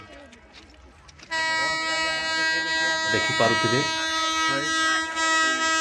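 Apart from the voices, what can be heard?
train passing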